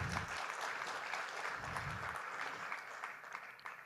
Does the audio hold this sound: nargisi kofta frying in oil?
no